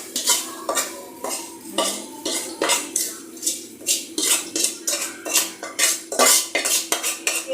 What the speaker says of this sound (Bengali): এই যে মাছগুলো নিয়ে এই যে নামিয়ে ফেলছি।